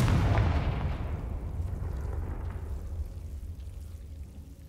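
A heavy magical blast from Bombarda and Confringo spells in Hogwarts Legacy, a loud booming explosion that bursts at once and then rumbles and fades away over a few seconds.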